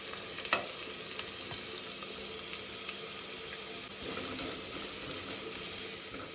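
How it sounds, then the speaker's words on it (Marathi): Chopped onion frying in hot oil with fenugreek seeds for a Goan bitter gourd fish curry, a continuous close sizzle and crackle with faint stirring and no talk. "आतां तातूंत घालुया आमी कानो।"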